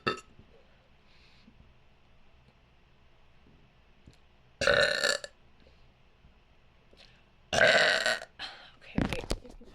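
A person lets out several loud, close burps. Two big, sustained ones stand out and a few shorter ones follow, with quiet stretches and faint clicks between them.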